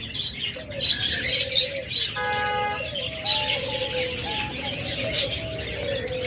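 Lovebirds calling at a bird sale, sharp chirps and short squawks among other chattering birds, with a brief harsh buzzing call in the middle.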